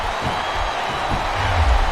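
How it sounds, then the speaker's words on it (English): A large arena crowd in the video game WWE SmackDown vs. Raw 2007 roars and cheers in a continuous wash of noise, with a low rumble swelling near the end. "It sounds like this capacity crowd has something on their minds, Taz."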